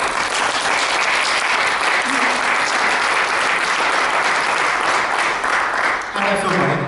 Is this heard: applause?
yes